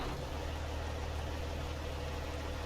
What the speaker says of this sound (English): Let's fire the truck up.